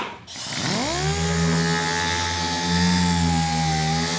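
A RUPES long stroke air sander, fed at about 90 PSI and fitted with a 3000 Trizac pad, spins up with a rising whine, then holds a loud, steady close-up drone.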